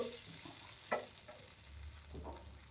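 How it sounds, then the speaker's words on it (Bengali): Batter sizzling softly on a ghee-greased tawa, a faint, steady frying crackle with a few small clinks, no voices. "এবার কিছুটা ব্যাটার দিয়ে দিলাম তাওয়াতে"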